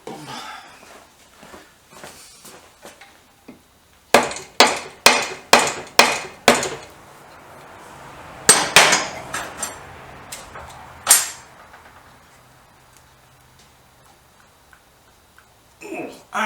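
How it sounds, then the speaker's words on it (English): Someone taps an engine part on a Royal Enfield Bullet with a soft mallet, giving a series of sharp, evenly spaced knocks close up, a brief pause, then a few more scattered blows. "Let me just keep tapping it with the soft mallet."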